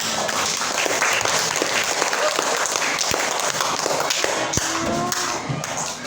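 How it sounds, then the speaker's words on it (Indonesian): Students in a classroom applaud together, a dense, steady round of clapping mixed with scattered desk taps and thumps that tapers slightly at the end. "Tepuk tangan."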